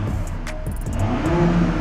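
Audi S4 engine rising in a short rev from idle, a loud close mechanical drone climbing in pitch and swelling over under two seconds with no talk.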